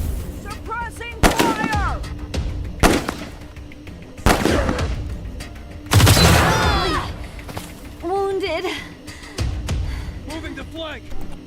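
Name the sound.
gunfire in the video game Wasteland 3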